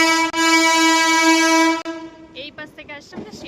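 A metro train near Cantonment station sounds a long, loud, steady horn blast that cuts off briefly and resumes. It ends abruptly and gives way to shorter clattering and voice-like sounds.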